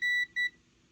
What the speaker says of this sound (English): We got a constant beep here.